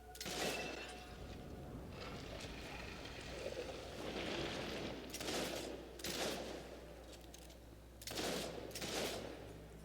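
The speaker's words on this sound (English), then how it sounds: "Oh, this gun is so slow." Rifle gunfire in the video game Fable III: several faint, spaced bursts of shots over a steady low background hum.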